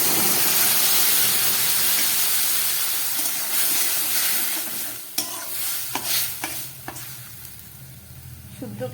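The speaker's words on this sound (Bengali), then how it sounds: "এবার এই সিদ্ধ করা মসুর ডালটা আমি দিয়ে দিচ্ছি।" Boiled masoor lentils are poured into a hot fried tempering in a pan and sizzle loudly and steadily, then quieten as they are stirred, with a few sharp clinks of a spoon against the pan near the end.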